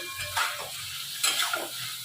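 Mustard spice paste sizzling and frying in a pan, with onion, stirred in two soft scraping bursts over a quiet steady crackle.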